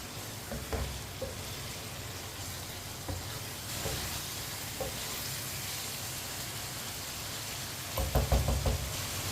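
Aloo gobhi (potato and cauliflower) frying in a pan over high heat, a steady sizzle broken by scattered knocks and clatters of stirring, with a louder burst of scraping near the end.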